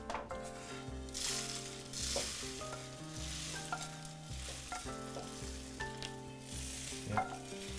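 Black pepper and dried chilies toast in a dry pan, giving a soft, continuous sizzle and scrape while background music plays, with no one speaking.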